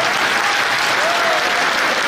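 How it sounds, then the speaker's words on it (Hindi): Loud, dense clapping from a large audience at a motivational business talk, continuous throughout with a faint murmur of voices in the crowd. "जो आता है बजाओ ताली"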